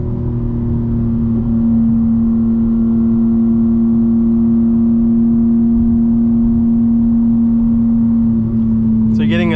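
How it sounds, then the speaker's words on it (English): Inside a BMW M4 Competition xDrive, the engine holds a loud, steady drone with a strong whine and intake noise. It stays nearly constant in pitch, then changes briefly at the very end. "A lot of intake noise, a lot of engine whine."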